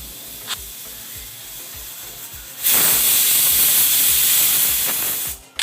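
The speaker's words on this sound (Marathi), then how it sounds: "आणि शेवटी आपल्या कुकरचं झाकण जे आहे ते लावून आपल्याला याच्या 1-2 शिट्ट्या ज्या आहेत त्या आपल्याला करून घ्यायच्या." A pressure cooker holding chicken biryani suddenly releases a loud, continuous rush of hissing steam that lasts a few seconds before cutting off, following a quieter stretch of faint kitchen sounds.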